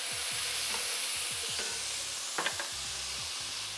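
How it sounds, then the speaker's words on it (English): Diced mushrooms and minced garlic frying in a hot pan give a steady, close sizzle. A few spoon-scraping stirs come through about halfway, and no one speaks. "Give that a stir."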